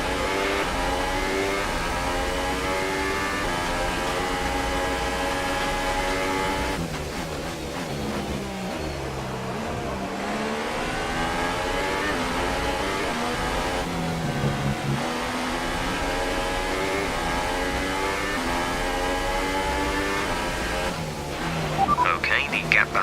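Formula 1 car engine in the F1 2018 racing game at the German Grand Prix, a steady high-pitched whine rising and falling through gear changes, continuous and loud, with a voice speaking over it.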